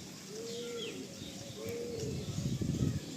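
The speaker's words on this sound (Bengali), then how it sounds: "বাহ কি সুন্দর পায়রাটা দেখুন" Pigeons in a Giribaj pigeon loft coo softly in repeated low, rolling calls, with faint chirps and rustling growing busier toward the end.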